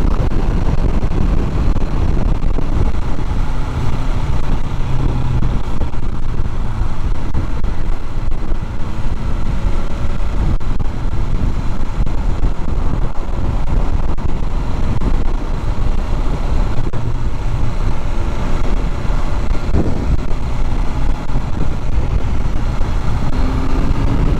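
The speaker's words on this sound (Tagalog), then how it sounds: "Mahangin talaga dito sa bundok." Strong, steady wind roars on a mountain and buffets the microphone with a constant low rumble, loud and unbroken throughout.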